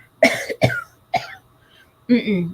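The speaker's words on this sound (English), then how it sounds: "And all she does is cough" Three harsh coughs come in quick succession, followed after a pause by a short voiced sound.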